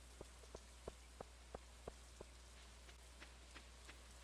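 Rain falls in the farming game Stardew Valley, light pattering with a series of separate drip-like taps over a steady low hum.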